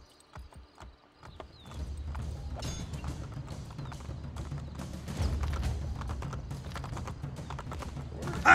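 A horse gallops across a bridge in Assassin's Creed Brotherhood, carrying Ezio: rapid, steady clip-clop hoofbeats that start after a quiet moment and continue evenly at a moderate loudness.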